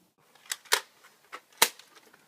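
A few sharp cap-gun-like pops ring out, two louder cracks among fainter snaps, quick and dry with no talk, standing in as pretend gunshots in a staged assassination scene.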